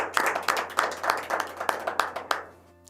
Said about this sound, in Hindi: ज़ोरदार तालियों में इस्तकबाल, स्वागत कीजिए उमेश मिश्रा जी का